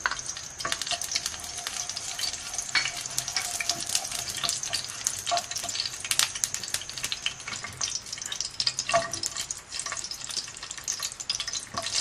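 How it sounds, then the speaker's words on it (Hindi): Cumin and mustard seeds frying in hot ghee in a pan, a loud, close, continuous sizzle and crackle with scattered pops throughout, no voices. "हमने जीरा डाला है, राई डाली है हमने, इसको थोड़ा सा हम फ्राई करेंगे।"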